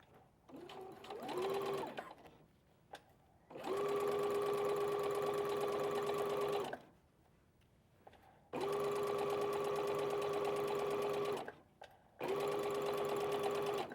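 A sewing machine stitches a welt pocket with an exposed zipper in steady, even hums, three long runs separated by pauses for pivoting at the corners, close and clear with no voices.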